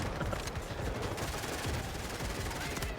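Rapid pistol fire in the video game Delta Force, a dense continuous burst of close shots over about three seconds with no break.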